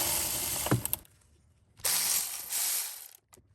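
A hand ratchet loosening 10mm fasteners that hold a wiring harness to the fuel rail of a Toyota/Lexus 2UZ-FE V8, bursts of rapid clicking separated by short pauses, close up, with no speech.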